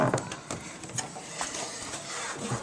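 A Kinetic Kracker electric pecan cracker runs with a steady mechanical hum, punctuated by several quick cracking snaps as pecans break.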